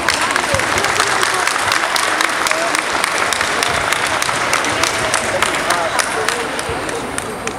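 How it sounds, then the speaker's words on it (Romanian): Audience applause at a national singing festival in Craiova, Romania: dense, steady clapping from a large crowd fills the whole stretch, with some crowd murmur underneath, fading slightly at the end. "Haideți să-l încurajăm cu aplauze."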